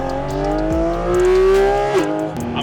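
A 2023 Porsche 718 Cayman GT4RS engine revving loudly up to a high, clear whine, then dropping off sharply and settling back down, heard close and alone.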